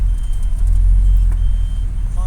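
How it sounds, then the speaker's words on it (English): A truck is being moved close by, its engine giving a steady, loud low rumble that holds throughout. "Mike's moving another truck."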